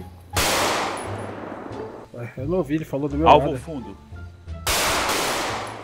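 Loud bursts of GTA 5 gunfire from a shooting-range practice session open and close the moment, with someone speaking Portuguese in between the two volleys.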